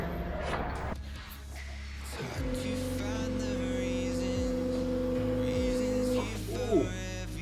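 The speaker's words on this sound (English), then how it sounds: "Let's see if we can get it to prime." A Walbro 460 fuel pump in a Nissan Stagea with an RB25DET primes with a steady, loud electric whine lasting about four seconds over a low hum, then cuts off.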